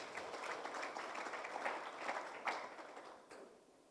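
Applause from a crowd at a Simba Sports Club press event, a faint, steady wash of clapping that swells slightly and then fades away.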